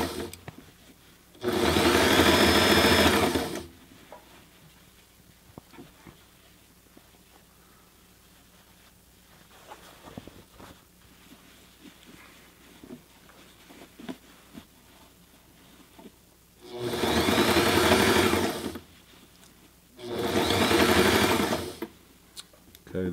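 A Sailrite Ultrafeed LSZ1 sewing machine stitches a fabric seam in three loud, steady whirring bursts, one near the start and two near the end, separated by long quiet stretches of faint handling noise.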